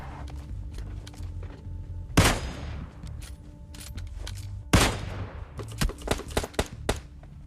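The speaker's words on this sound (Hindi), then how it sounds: "मेरे को गनशॉट की आवाज आ चुकी थी" Gunfire in PUBG Mobile Lite: two loud, sharp shots ring out a few seconds apart, followed by a quicker cluster of softer pops and thuds over steady in-game ambience.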